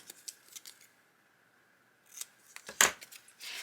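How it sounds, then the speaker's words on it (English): Scissors snip paper memorabilia for a journal page: a few soft, close cuts followed by one sharp, bright snip near the end, with faint handling rustles around them. "Let's cut that out just to have on the front of my page at the top."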